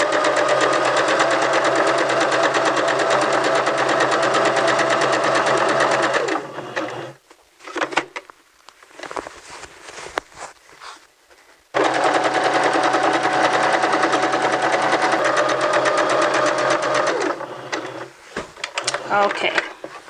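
Sewing machine running a regular stitch at 2.5 length on a T-shirt dress, a loud steady rapid whir that stops briefly with handling clatter before starting again, with someone talking during the pause.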